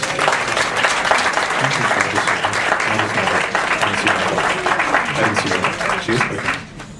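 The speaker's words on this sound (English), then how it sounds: "Give them a big round of applause." Loud, sustained applause from a large audience fills the whole stretch, dense clapping that tapers slightly at the end.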